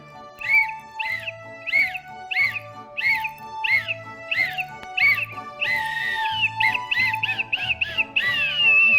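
A whistle blown in a string of short, bright toots that follow a tune, over a low rhythmic musical backing, during an online Sunday school service.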